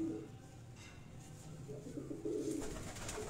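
A pigeon coos softly in short low murmurs while held in a hand, the sound close and faint over a quiet room with a faint voice in the background.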